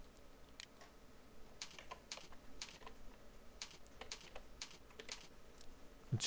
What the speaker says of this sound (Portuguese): deixa eu digitar ele aqui